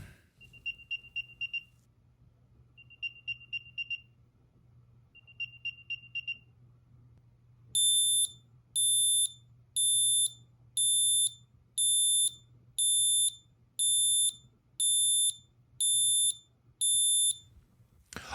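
Two Bluetooth item trackers, one of them an Apple AirTag, sound their alerts one after the other: first three short groups of quick, fainter chirps, then a louder, higher tone repeating in ten evenly spaced pulses, with no voices.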